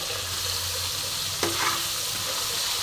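Bitter gourd and potatoes sizzle in a hot pan and are stirred, a steady frying hiss broken by a sharp scrape of the spatula midway, close by and without any voices.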